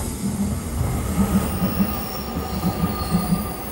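A train rolls into Orio Station in Japan, wheels squealing in high, sustained tones over a low rumble, with a few soft clicks from the rails.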